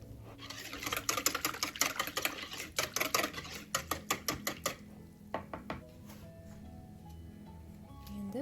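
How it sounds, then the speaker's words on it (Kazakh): A utensil clatters rapidly against a bowl while stirring melted butter mixture for chocolate muffins, a fast run of sharp ticking strokes that slows and fades after a few seconds. "Араластырамыз."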